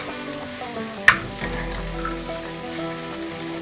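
Mixed vegetables, including carrot, pavta beans and green peas, are stirred in a pan over a low flame: a sharp utensil clack near the start, then a continuous soft sizzle with light scraping.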